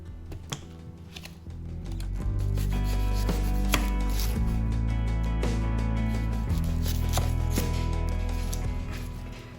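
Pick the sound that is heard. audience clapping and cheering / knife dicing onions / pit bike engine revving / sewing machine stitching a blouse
knife dicing onions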